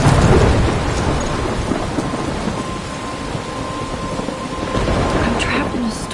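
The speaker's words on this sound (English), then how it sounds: "I'm trapped in a storm?" A thunderstorm with steady heavy rain and deep rumbling thunder, loud and continuous throughout, with a swell of wind and rain near the end and no talking.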